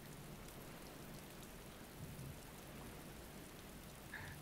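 Steady in-game rain from the DayZ survival game falls in a continuous wash of patter, with a faint rumble of thunder underneath.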